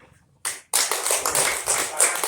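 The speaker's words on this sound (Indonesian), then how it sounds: "kita aplaus dulu untuk langkah kedua" Applause fills a seminar session, a brief burst of clapping followed by steady, dense clapping from a group that continues to the end, fairly loud and close.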